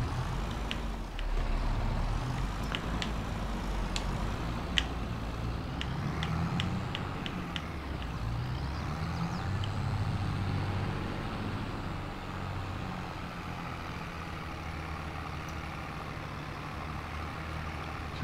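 A tractor engine in a farming video game runs with a steady, loud, low drone throughout, with sharp clicking and ticking sounds over it for the first eight seconds.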